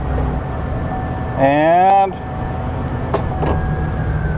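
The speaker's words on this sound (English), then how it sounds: "Start the truck up" A truck engine starts: a short rising starter whine lasts about half a second, then a steady running hum continues, and a voice speaks briefly.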